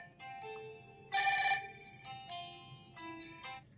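A short electronic ringtone from a Fire-Boltt Phoenix Pro smartwatch chimes, loudest in one brief burst, then continues quieter and muffled in bursts with its speaker partly blocked.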